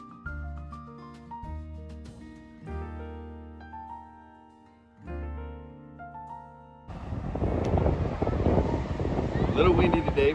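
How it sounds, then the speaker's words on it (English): Soft music gives way to loud, gusty wind buffeting the microphone at Asilomar State Beach, a rough roar that fills the last few seconds. "A little windy today, but it's still a beautiful day out here."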